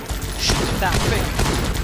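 Rapid bursts of gunfire from the Guns Up! video game, a dense continuous fusillade throughout, with a voice talking over the shots.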